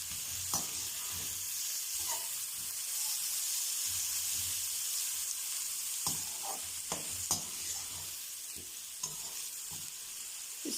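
Finely chopped onions sizzle in hot oil for a bhindi aloo sabzi, a steady close hiss with occasional spoon stirs and scrapes breaking through.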